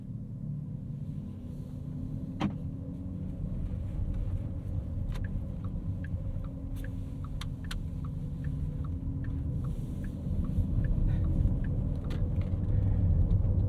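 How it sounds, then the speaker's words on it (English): A 2024 Porsche Cayenne Turbo Coupe driving in electric e-power mode, with a steady low rumble and faint whine from the drivetrain. Occasional small clicks and rattles sit over the cabin noise, which grows a little louder near the end. "Lots of loud electric motor noise projected out as we ride in e-power."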